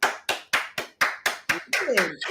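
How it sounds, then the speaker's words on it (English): Several sharp hand claps in a steady, quick rhythm, growing slightly uneven toward the end as a voice begins underneath. "a hand clap"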